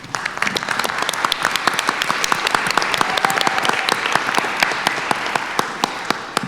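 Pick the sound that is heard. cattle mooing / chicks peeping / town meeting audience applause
town meeting audience applause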